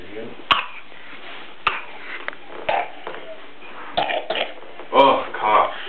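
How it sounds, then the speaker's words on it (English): Short coughs and throat-clearing sounds from a child come in several brief bursts at irregular intervals, close to the microphone, mixed with bits of speech in a quiet room. "cough."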